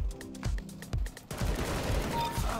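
A shotgun fires in CS:GO: several sharp, close blasts in quick succession, followed by a louder stretch of dense gunfire noise.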